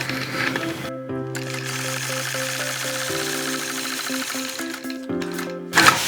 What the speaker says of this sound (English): So I'll simply hold this concave side of the ruler now and stitch right up there to where I started.